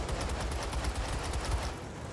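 Vehicle-mounted guns fire continuously in LEGO Marvel Super Heroes 2, a dense rapid burst of shots held at steady loudness for about two seconds before easing off at the end.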